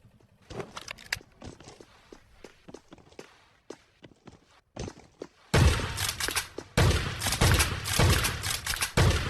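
Footsteps patter in the Scarfall video game on the Mumbai map, then loud, dense shotgun blasts erupt in quick bursts.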